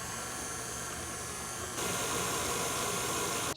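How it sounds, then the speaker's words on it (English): An electric mixer with a whisk attachment whips heavy cream toward thick peaks, making a loud, steady, close whirring hum that jumps to a higher, harsher pitch partway through, with no talking. "So that has been about like a minute of whisking"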